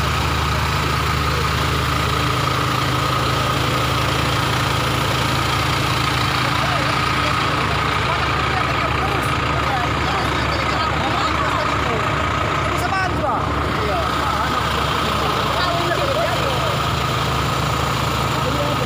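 A heavy truck engine idles with a steady low rumble throughout, loud and continuous, with faint background noise.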